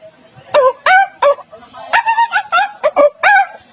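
A voice imitates a chicken in a comic routine, producing about eight short, nasal clucking and crowing bursts with sliding pitch, loud and close, in an uneven rhythm.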